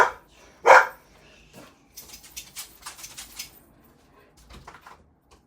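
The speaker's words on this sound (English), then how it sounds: "That was my dog" Pet dog barking indoors at a delivery at the door, one sharp loud bark followed by quieter rustling and knocking sounds.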